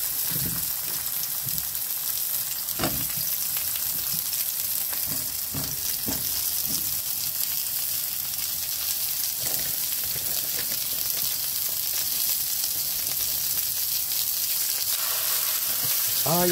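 Frozen yakitori skewers fry in a pan with a continuous loud sizzle and crackle, with occasional pops and stirring scrapes across the whole stretch.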